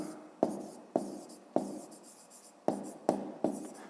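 Pen on paper, close and quiet, writing in bursts with crisp ticks as the tip meets the page roughly every half second, no speech.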